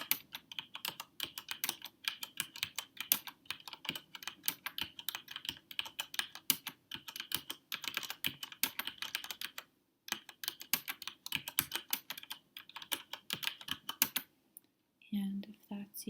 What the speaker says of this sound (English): I know that some people probably prefer slow typing.